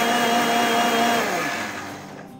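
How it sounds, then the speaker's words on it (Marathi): A kitchen mixer grinder blends cooked tomato, carrot and beetroot with a loud, steady whirring whine, then winds down as the motor slows near the end, with no voices. "हे आपण मिक्सरमधनं फिरवून घेऊया"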